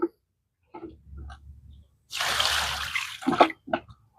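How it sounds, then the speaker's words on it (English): Water splashes out of a container for about a second in an outdoor garden setting among zinnia plants, loud and broadband, with brief murmured speech and small clatters before and after. "I need to dump some of that water out."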